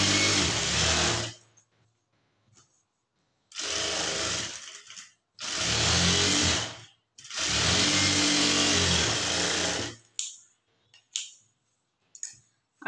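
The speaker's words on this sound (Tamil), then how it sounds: "லைனிங் மேலே பட்டுற மாதிரி டாப் ஸ்டிச் வந்து போடுங்க" A sewing machine top-stitches the lining of a blouse in three close, rapid bursts of stitching separated by short silences, followed by a few light handling clicks.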